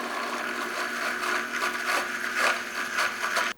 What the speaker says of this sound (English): Okay, so I'm going to stop blending it now.